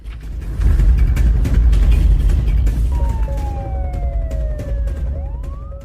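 A police car siren wailing outdoors, rising and falling tones sweeping in over a loud rumbling engine and road noise, growing clearer and closer toward the end.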